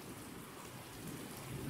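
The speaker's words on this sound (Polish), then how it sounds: "a słyszymy grzmi cały czas" Low thunder rumbles on and off through a rainstorm, with steady rain hiss throughout and a heavier swell of rumbling near the end; no talking.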